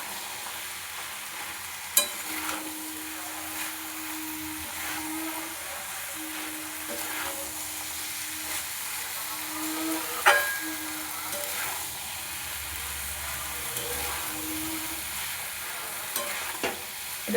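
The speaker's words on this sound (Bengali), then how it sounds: "মটরটা দিয়ে আমি 2 মিনিট কষিয়ে নিয়ে জল দিয়ে দেবো।" Peas for mutton ghugni sautéed in a pan, a low steady sizzle running throughout with occasional spatula knocks and scrapes, faint and close, with a thin tonal hum weaving in and out.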